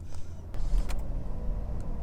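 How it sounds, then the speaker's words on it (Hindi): A Toyota Yaris engine starting up, heard as a steady low rumble with a few sharp mechanical clicks and bumps over two seconds, recorded close by. "ये कार स्टार्ट हो चुकी है"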